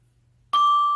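A single orchestral bell is struck with a wooden-stick mallet, giving a sharp clear strike followed by a steady ringing tone that sustains without fading.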